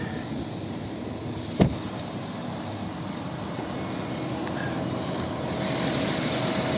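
A 2015 VW Touareg 3.0 TDI diesel engine idles with a steady, even hum, with one brief knock near the start and a slight rise in noise toward the end.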